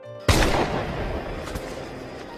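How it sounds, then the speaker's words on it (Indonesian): A single sharp gunshot from the Indonesian film Darah Garuda, set during the Dutch colonial war, cracks loudly and then rings into a long, rumbling echo with no talk over it. "Lastri yang seorang player PUBG pun dengan mudahnya menembak sandera mereka"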